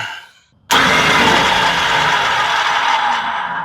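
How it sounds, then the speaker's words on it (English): An electric linear actuator on a slide-out unit starts abruptly after a brief quiet moment and runs in retract mode with a steady loud motor whine and mechanical hum, close by, no talk. "Run that actuator in the retract mode"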